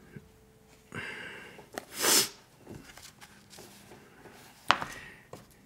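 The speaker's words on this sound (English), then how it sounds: "Got to sneeze." A man sneezes once, a loud, sharp burst that stands alone, followed a few seconds later by a short snort. Quiet breathing and faint rustling surround it, with no speech.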